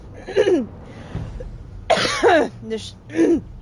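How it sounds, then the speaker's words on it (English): Several harsh coughs and throat-clearing bursts, close and loud, spaced over a few seconds. "excuse me for coughing"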